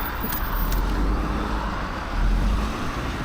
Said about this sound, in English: wait for the cars to come past